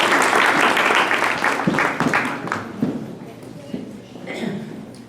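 Audience applause at an annual Hindi cultural function starts loud and dense, then thins into scattered claps and fades as a voice comes in over the end.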